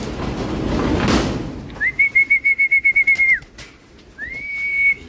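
Pigeons from a flock of about forty racing pigeons in Candelaria, Quezon: a brief burst of wing flapping, then clear, high pulsing whistled calls that stop and return, close by and otherwise alone.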